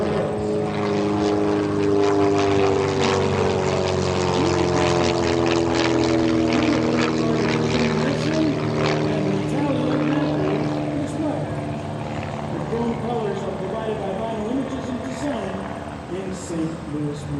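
A modified Pitts S1 aerobatic airplane with a high-compression 230 horsepower engine, custom propeller and 4-in-1 exhaust, droning loud and steady with a rich harmonic engine tone that shifts in pitch as it passes, fading slightly at the end.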